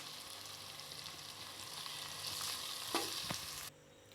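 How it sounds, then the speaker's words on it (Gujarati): Rice pulao fries in a pan with spices as it is stirred, a steady close sizzle with a few scraping clinks from the spoon near the end before the frying drops away abruptly. "હવે તેને બરાબર હલાવી પછી આપણે જોડેલા ભાત નાખી દઈશું"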